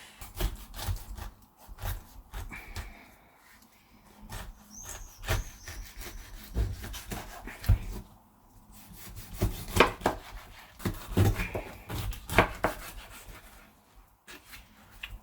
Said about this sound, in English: Then I've got a sharp knife and I'm going to cut it in half.